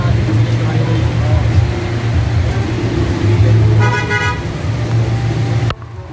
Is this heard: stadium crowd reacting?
no